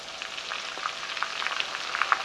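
Shrimp fry in hot oil with a steady sizzle, sharp pops and crackles bursting through the hiss.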